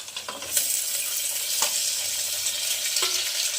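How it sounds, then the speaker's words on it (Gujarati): Okra fries in a pan with a steady high hiss of sizzling, broken by a few sharp clicks and stirring scrapes, close and alone without voices. "આપણા ભીંડો શેકાવા આવ્યો હવે નાખી દઈશું આપણે બટેકા"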